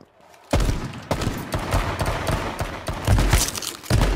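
Rapid gunfire in the survival shooter Just Survive, a dense run of loud shots and bursts that start abruptly after a brief quiet and keep going with repeated thumping cracks.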